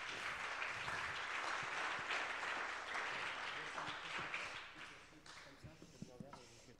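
Audience applause greets guests arriving on stage at a talk on mobility and AI, a steady round of clapping that thins out midway as scattered claps and voices take over.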